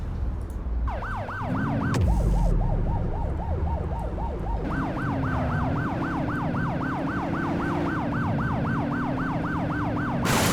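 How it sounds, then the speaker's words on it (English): A police car siren in the video game The Precinct wails loudly and continuously, switching between a fast yelp and a rapid warbling pattern, with an engine droning underneath. "left shift toggles siren"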